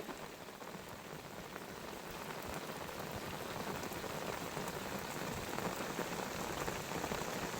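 Steady rain pours down by a river, a dense, even hiss with pattering drops that grows slightly heavier partway through.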